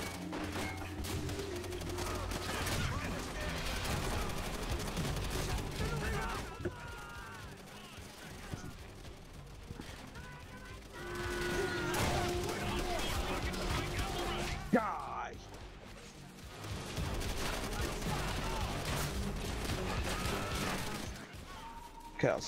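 Bursts of gunfire echo through a Call of Duty: World at War battle, with rapid volleys and thuds in several waves. Someone talks over much of the shooting.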